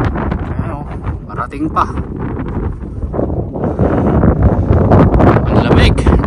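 Strong wind and heavy rain roar steadily during a rainy trip through Al Figrah, Saudi Arabia, a broad gusting rush that builds louder toward the end while someone talks over it.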